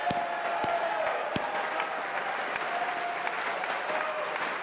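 A big crowd at a CPAC political conference gives a loud, sustained round of applause, a dense roar of clapping with a few sharper claps and whoops standing out.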